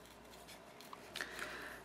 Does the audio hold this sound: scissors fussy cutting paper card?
yes